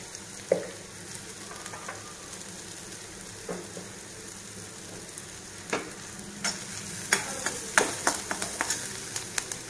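Onions fry in hot oil with cumin and coriander powder added, a gentle steady sizzle punctuated by several sharp clinks and scrapes of a spoon against the pan, growing busier toward the end.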